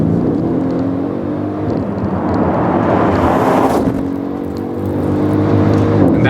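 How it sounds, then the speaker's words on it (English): A Mercedes ML 63 AMG with its 557-horsepower engine pulls hard under acceleration, a loud, continuous engine roar and whir that swells, dips briefly near the middle, then climbs again, with no voices. "why would you not try out the 557 horsepower of this beast?"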